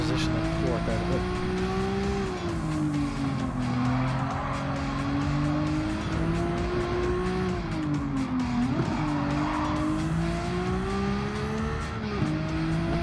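A race car engine drones steadily at high revs in Gran Turismo 7, its pitch rising and dipping with gear changes, while tires squeal through corners. The sound is loud and continuous.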